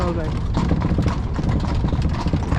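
Horse hooves clip-clop steadily during a carriage ride in Vienna, with engine and traffic rumble and people talking over them throughout.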